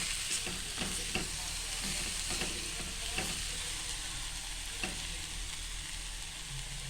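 Dried shrimp (sukat) sautéed in a pan for a drumstick-flower vegetable dish, with a steady sizzle of frying and repeated scraping stirs, close and fairly loud, no talking.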